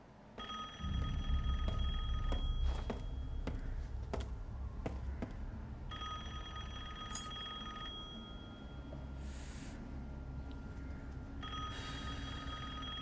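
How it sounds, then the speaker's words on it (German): A telephone rings in the Resident Evil Village video game, sounding in repeated bursts of bright ringing over a low, steady ambient rumble. "Geht mal hier jemand ans Telefon?"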